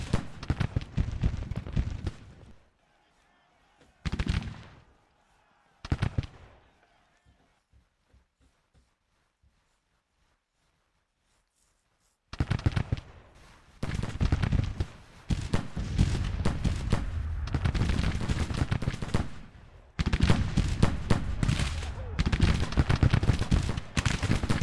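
Gunfire and artillery from the Civil War video game Grand Tactician come as a few loud bursts, then a long silence, then a sustained, dense barrage of rolling shots and booms that continues to the end.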